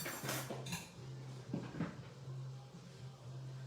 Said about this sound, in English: we're going to stir the beans